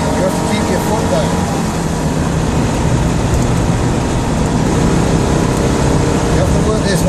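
A Citroën Dyane drives with its small engine droning loud and strained, a constant harsh roar with road and wind noise filling the cabin and no letup.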